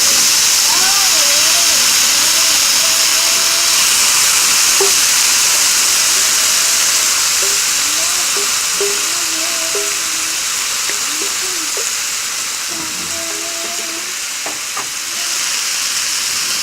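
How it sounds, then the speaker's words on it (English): Apples fry in warm oil in a skillet on medium-high heat, giving a loud, continuous sizzling hiss with a voice speaking over it throughout. "Add a little bit more so as the oil is nice and warm. And then I'm going to add the apples."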